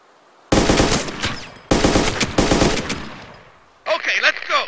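Sustained machine gun bursts of covering fire in the Arma 2 military game, loud and close in two long volleys, followed by a shorter burst with a shouted voice over it.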